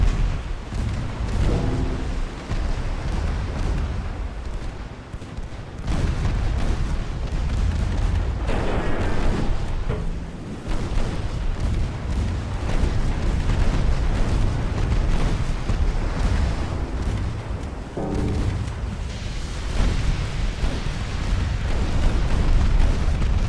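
Naval battle in Ultimate Admiral: Dreadnoughts with an 1890 Austro-Hungarian fleet: loud, dense rolling booms of big guns and shell blasts rumble continuously, with repeated heavy bursts standing out against a roaring low backdrop.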